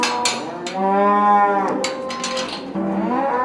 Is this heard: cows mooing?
yes